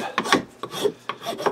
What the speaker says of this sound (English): I'm at the point now where I can run a rasp over it, just like I did on the other side